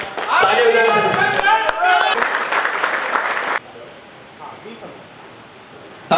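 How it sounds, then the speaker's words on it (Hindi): Audience applause at a Bharatiya Veer Dal party gathering in Delhi, a dense burst of clapping with some voices mixed in that runs for about three and a half seconds and then stops abruptly, leaving quiet room noise. "एक बार तालियां बजाकर"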